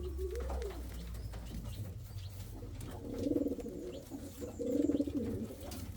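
Indian fantail pigeons giving soft, low cooing calls, two rounded coos a few seconds apart, faint and close over a quiet background hum.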